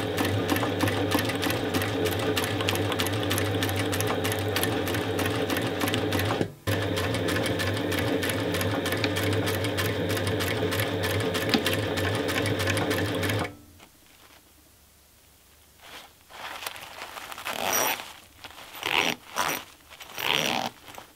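A sewing machine stitches a zip into a hammock, a fast, loud, continuous mechanical chatter that runs for over ten seconds, then stops abruptly and gives way to quieter scraping and handling noises.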